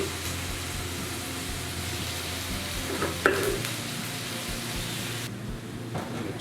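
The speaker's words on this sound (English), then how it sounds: "So with your pan nice and hot, just pop your onions in." Onions sizzle and crackle steadily in hot olive oil in a pan, a close, continuous frying hiss with a brief clatter midway.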